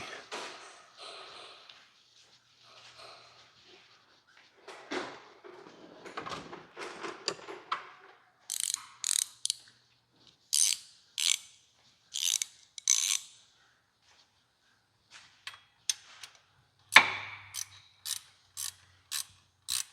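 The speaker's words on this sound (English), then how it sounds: "All right, let me get a gear wrench in there." A ratcheting gear wrench clicking as it turns a bolt, heard in repeated short bursts of sharp, close ratchet clicks with pauses between strokes after some quieter handling noises.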